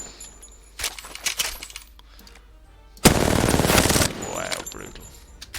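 Automatic gunfire at a training dummy in Apex Legends, heard as a few scattered shots and clicks followed by a loud, sustained one-second burst, with a faint voice and game sounds in between.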